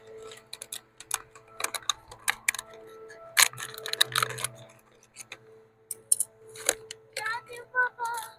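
Scissors snip through the tip of a homemade plastic fish trap, a run of sharp, close clicking cuts at an uneven pace with short pauses and occasional handling rustle.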